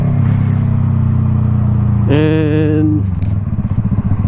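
A Yamaha R3 motorcycle fitted with an M4 Street Slayer exhaust drones at a steady idle, then briefly revs to a higher pitch for about a second before dropping back, with a voice speaking near the end.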